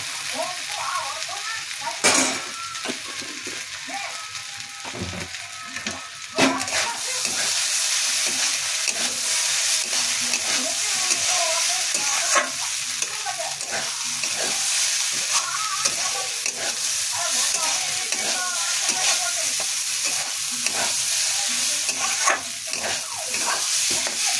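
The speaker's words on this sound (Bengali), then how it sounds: "চালটাতে একটু ঘি দেবো, ঘি দিয়ে ভেজে নেব" Gobindobhog rice frying in ghee for a Bengali muri ghonto with catla fish head, a steady loud sizzle with scraping stir strokes running throughout, a sharp clack near the start.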